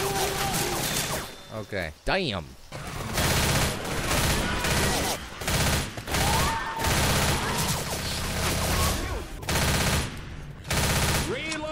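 Rapid bursts of automatic gunfire from a zombie shooter, Left 4 Dead, rattle almost continuously near and loud, with brief pauses and a short spoken word early on.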